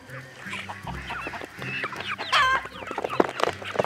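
Farmyard chickens cluck and squawk close by while being fed azolla, with busy, overlapping calls and a louder burst midway.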